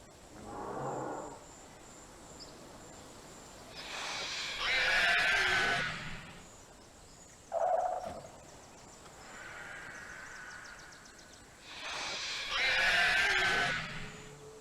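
A Therizinosaurus in the video game The Isle gives repeated long, moaning, horse-like calls, several drawn-out bursts separated by pauses, at moderate distance with no talk.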